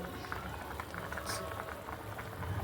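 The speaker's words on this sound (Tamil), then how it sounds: "நல்லா இந்த அளவுக்கு கொதிக்கணும்." Brinjal and drumstick kara kuzhambu gravy bubbling at a steady boil, a soft continuous simmer with small pops, heard close and alone.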